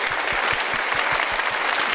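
An audience of yoga practitioners at a gathering with Swami Ramdev breaks into applause, sustained crowd clapping with a faint regular beat running through it, heard on its own without talk.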